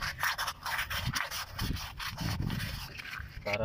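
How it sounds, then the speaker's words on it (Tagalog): Sandpaper rubbing rust off the inside of a wheel hub part from an Isuzu NHR 2.8 truck: a continuous close, gritty scraping with uneven back-and-forth strokes over about three and a half seconds. "Yan, lihain natin yan"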